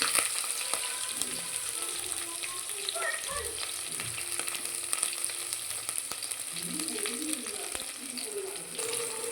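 Cloves and green chillies fry in hot oil, giving a steady, close sizzle with occasional stirring and scraping sounds.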